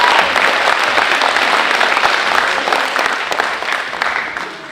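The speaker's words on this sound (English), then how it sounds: "let's give yourselves a round of applause for that" A school audience of students at a student showcase breaks into loud, sustained applause that fades slowly toward the end, with no talking over it.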